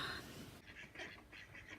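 Ducks at the seaside give a run of quick, clustered quacks and honks, faint and a little distant, repeating in short bursts against a steady outdoor background.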